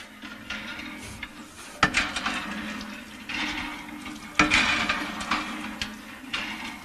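A village hand pump on a hillside in Maharashtra sends water gushing out in repeated surges, each stroke marked by a sharp clank followed by a splashing rush, close and moderately loud.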